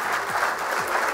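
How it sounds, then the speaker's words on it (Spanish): Steady applause from an audience at a rugby-related event hosted with ESPN, a continuous even wash of clapping at moderate volume with no voices. "Ahí el número 72, fuerte el aplauso."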